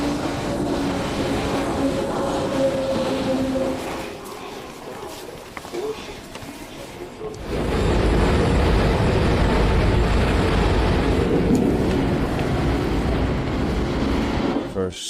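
A Yekaterinburg metro train on the city's single line, a low rumble that fades for a few seconds then swells into a loud, steady roar as the train runs, with a voice talking over it.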